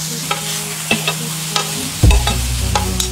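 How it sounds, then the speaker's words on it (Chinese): Green peppers pan-fry over low heat with a soft steady sizzle, punctuated by a few light taps and scrapes, then a louder clatter and denser frying about two seconds in. "青椒上锅，小火慢煎"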